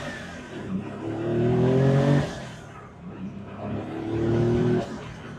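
A modified twin-turbo Porsche 911-based car with an open top and six-speed manual pulls away, its engine rising in two strong revving surges with a dip between, heard close from on board.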